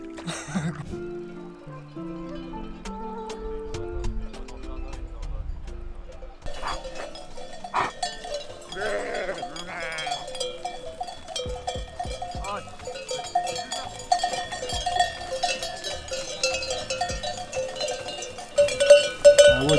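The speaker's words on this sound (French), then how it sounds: "là on est devant une tribu de moutons" Bells on a flock of sheep high on a mountain at 2100 metres, clanking and tinkling irregularly at close range, growing busier and louder toward the end.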